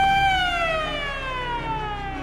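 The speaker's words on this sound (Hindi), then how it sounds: "वो एक सायरन सुनता है, एक ऐसा सायरन जिसे शायद अपनी पूरी जिंदगी के अंदर कोई भी नहीं सुनना चाहता।" A steady wailing siren, loud and sustained, its pitch slowly falling across the whole stretch, like an air raid warning heard alone.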